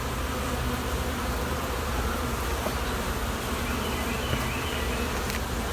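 Honey bees hum steadily at an opened hive holding honey and capped brood, a dense, continuous buzz close by with no talk over it.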